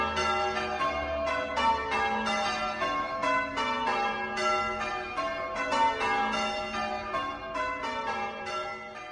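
Church bells peal in an English town, several bells ringing in overlapping, rhythmic changes with bright sustained tones, fairly loud and continuous without voices.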